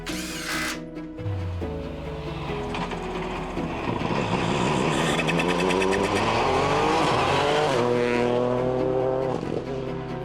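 A Toyota GR Yaris Rally2 rally car is test driven on a closed forest road in Nagano. The engine revs hard and near, with tyre squeal and skidding through corners, and the roar builds and shifts throughout.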